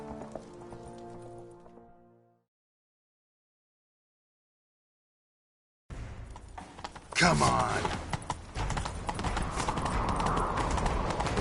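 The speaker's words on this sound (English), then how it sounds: "Grab a horse, we'll chase him down." Horse hooves gallop in a video game, rapid clip-clop that starts after a short musical passage and a silence, loud and continuous, with someone shouting over it once.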